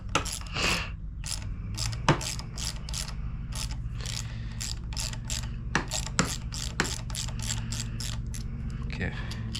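A ratchet wrench loosens handlebar bolts on a Grom motorcycle in a mechanic video game, giving a rapid, even series of sharp clicks over a steady low hum, with a few louder clacks.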